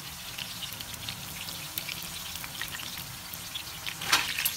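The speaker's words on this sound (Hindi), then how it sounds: "ऑयल मैंने गरम होने के लिए रख दिया है, फ्राई करना शुरू करेंगे मीडियम लो पे।" Chicken kebabs frying in oil over medium-low heat, a soft, steady low sizzle with faint crackles and a brief brighter pop near the end, quiet and without talk.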